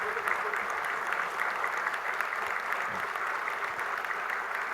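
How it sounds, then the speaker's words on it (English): A round of applause from a conference audience after a panel session, dense continuous clapping holding steady for several seconds with no speech over it. "Big round of applause."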